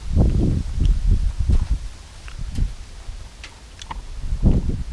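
Wind gusts through trees, including eucalyptus, outside a house where beef is being grilled, with rustling leaves and low buffeting rushes rising and falling in uneven waves.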